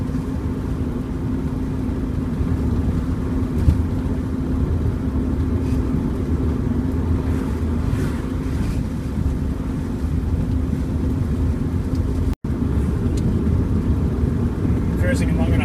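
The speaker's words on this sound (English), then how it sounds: "So now we're cruising along at 90 with an even throttle." A Subaru with a turbocharged EA82T engine cruises at an even throttle of about 90, producing a loud, steady low engine drone and road rumble heard from inside the car throughout, with one brief dropout near the end.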